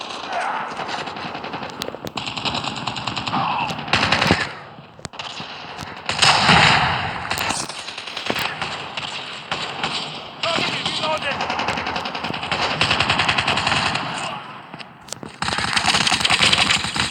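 Submachine gun fire in a Call of Duty video game, loud rapid bursts and sustained automatic volleys with brief gaps, close and dense, with a voice talking over parts of it.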